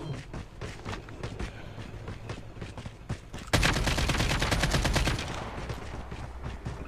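Rapid AK-47 automatic fire in Call of Duty Mobile rattles in dense bursts, swelling into a louder, sustained volley midway before easing back to steady shooting.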